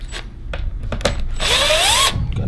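A power drill or driver backing tiny screws out of a control panel: short bursts at first, then one longer whirring run that rises in pitch, loud and close with no speech.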